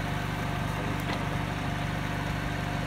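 A Renault electric motor runs with a steady low hum and a faint mechanical drone, continuous and fairly quiet, without breaks or changes in pitch.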